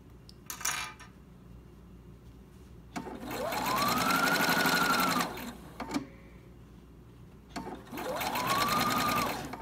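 A sewing machine stitches elastic onto a fabric dust cover in two slow, whirring runs of a few seconds each, one after the other. Light clicks and handling noises come between the runs.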